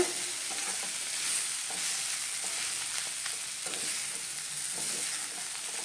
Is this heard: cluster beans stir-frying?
yes